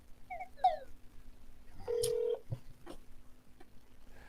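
A telephone being dialed: a few electronic tones and a longer steady beep amid faint clicks and handling noise, fairly quiet with gaps of near silence.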